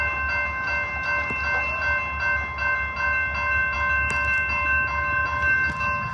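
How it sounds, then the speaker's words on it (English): A freight train rolls past at night in Plymouth, Michigan, a loud continuous rumble with steady tonal whining and occasional sharp clanks, heard close and without voices. "It's another Plymouth, Michigan train, this time at night."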